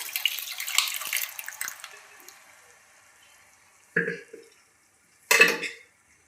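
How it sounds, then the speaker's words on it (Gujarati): Boiled mung beans going into a pot of cooked spiced masala for a Gujarati mung curry: a wet, splashy pour that fades, followed by two short, sharp clatters close by. "આપણે મગ બાફ્યા હતા એ નાખી દઈશું।"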